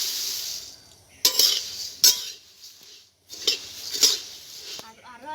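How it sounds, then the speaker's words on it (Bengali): Softened puffed rice (muri) being dry-fried in a pan, with a soft hiss and several sharp scraping clinks of a spatula against the metal, close and intermittent with short quiet gaps. "নরম হয়ে যাওয়া মুড়িগুলো আমি একটু ভেজে নিচ্ছি।"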